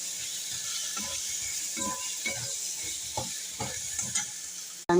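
Fried potatoes and spices including turmeric, Kashmiri chilli and salt are stirred in a hot pan, giving a steady sizzle with repeated scraping strokes of a spatula, close and loud, ending in a sharp clatter.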